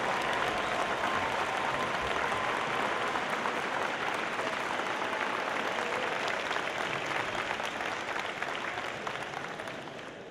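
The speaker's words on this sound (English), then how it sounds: "Give them a round of applause." Sustained loud applause from a large audience at the opening ceremony of a FIRST robotics district event, steady clapping that fills the whole stretch and tapers slightly at the end.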